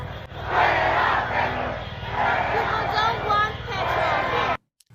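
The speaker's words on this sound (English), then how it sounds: "there was a crowd of people shouting out with Petro" A large crowd in Colombia loudly shouts chants against Petro, a dense, continuous roar of many voices that cuts off abruptly at the end.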